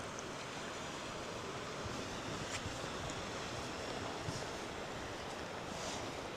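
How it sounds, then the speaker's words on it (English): Wind sweeps across a Scottish clifftop in a dense, unbroken roar that buffets the microphone, with a constant rushing wash like distant surf and no voices. "it's definitely getting a little bit breezy now"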